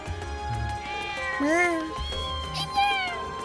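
Two cats, a mother and her kitten, meow in the video game Trails of Cold Steel, giving several clear rising and falling meows in sequence over light game background music.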